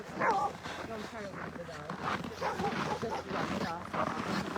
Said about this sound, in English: look at that happy group of dogs right there